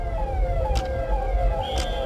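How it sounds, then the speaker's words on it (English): Ambulance sirens race through city streets, a wailing tone sliding up and down at a distance over steady traffic rumble, with a couple of brief clanks. "The only occasional sounds, the sirens of ambulances as they ripped across the streets."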